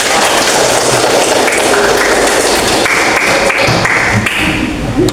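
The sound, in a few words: audience applause, clapping hands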